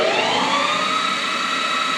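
A Smithy MI-1340L lathe runs steadily at 2000 RPM under carriage power feed, giving a loud, continuous machine whine with sustained tonal hum and no talking.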